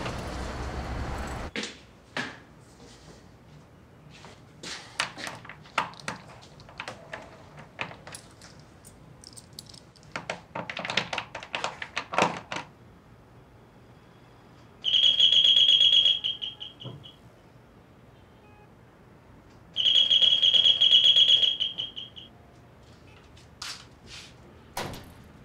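A door lock rattles and clicks as a key is tried again and again without the door opening, a run of sharp close metallic taps, later broken by two long, loud electronic buzzer tones.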